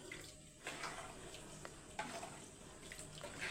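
About a glass of water is poured into a mixer grinder jar in a home kitchen while a meal is being cooked. A steady splashing trickle runs close by, with a few brief clinks and no speech.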